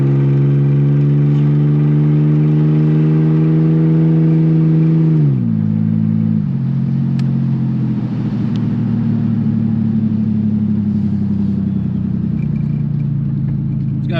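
Old Chevrolet Camaro, back on the road after 20 years, its engine droning steadily, then dropping pitch as it shifts or eases off around midway before settling into a lower, even rumble while driving; loud and close.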